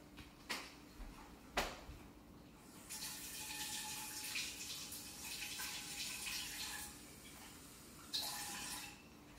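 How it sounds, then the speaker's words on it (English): Hot water poured from a tap or kettle for pad thai sauce runs as a steady, close splashing stream for several seconds, preceded by a couple of sharp clinks and ending in a brief louder gush. "and then just add a little bit of hot water."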